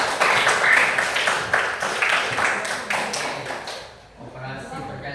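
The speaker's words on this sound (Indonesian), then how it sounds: "Tepuk tangan untuk kalian semua" Schoolchildren in a classroom clapping together in quick rhythmic bursts, loud and close, fading out near the end, with voices mixed in.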